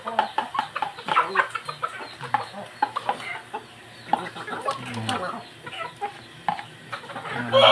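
Micro bantam chickens clucking in a backyard breeder's pen, a stream of short close clucks and chatters overlapping, with people talking faintly in the background.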